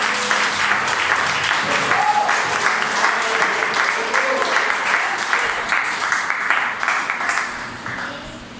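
A church congregation breaks into sustained applause during a Portuguese-language sermon, a dense wash of clapping with a few cheers that holds steady and then eases slightly at the end.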